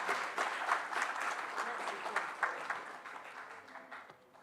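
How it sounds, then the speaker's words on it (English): An audience at a World Parliament Day parliamentary inauguration event claps in a sustained, dense round of applause that slowly fades, heard from a moderate distance with some crowd murmur. "let's give ourselves a big round of applause"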